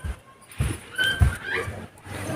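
A puppy whimpers in soft, high-pitched whines, faint and intermittent, with a few low thumps and muffled background noise around it.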